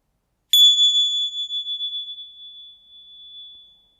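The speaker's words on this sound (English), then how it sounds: "I'm going to ring my dragon bells here 3 times to create sacred space" A single clear strike of dragon bells rings out after a brief silence, its bright pure tone sustaining and slowly fading over several seconds.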